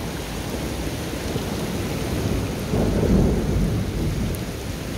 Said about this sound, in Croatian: Evo i grmljavnije, morat će ostati štap.